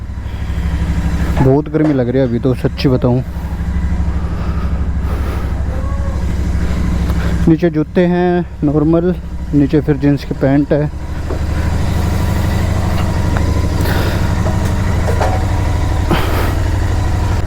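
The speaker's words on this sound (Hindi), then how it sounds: "बाइक कर दी भाई स्टार्ट।" A motorcycle idles close by with a steady, low engine rumble throughout, while someone talks over it for much of the time.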